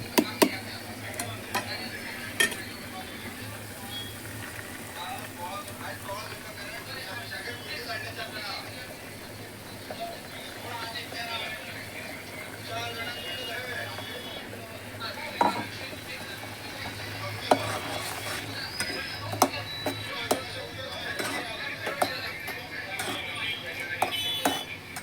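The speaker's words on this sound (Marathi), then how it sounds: "सो आता हे वाटण घालता हांव भितर" A spoon stirs ground masala paste into a cooking pot, with scraping clinks and metallic knocks against the vessel recurring throughout under steady talking in a home kitchen.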